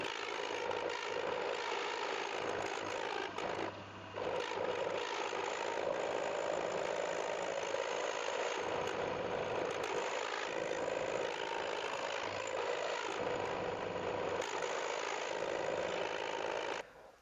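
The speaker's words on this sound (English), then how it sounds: "I just want to get some clearance for the rod end, so I think I might do that on the mill" Milling machine cutting clearance slots into a steel suspension part for a rod end, a continuous loud whirring, grinding machining roar that runs almost without break for the whole stretch, close up and with no talk.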